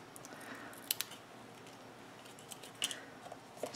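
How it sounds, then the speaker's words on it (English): Scissors cut paper for a steampunk-style mini album, with a few faint, close snips spread over an otherwise quiet stretch. "I'm just going to cut straight on up now."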